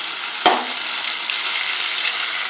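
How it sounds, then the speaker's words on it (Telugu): Green chillies and curry leaves frying in oil in a pan while making egg masala gravy, a close, even hiss of sizzling oil broken by one sharp spatula clack near the start. "అదే బాండిలో మరి కొంచెం ఆయిల్ వేసి పచ్చిమిర్చి కరివేపాకు ఫ్రై చేసుకుందాం"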